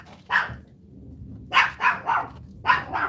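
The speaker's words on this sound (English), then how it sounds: "Sorry, my dog's loud." Loud pet dog barking indoors, three quick bursts of sharp barks in a short span, alone with no talk over them.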